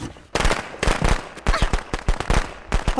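A rapid series of sharp crackling bangs and pops from a firework in Friday the 13th: The Game, going off close by in quick bursts.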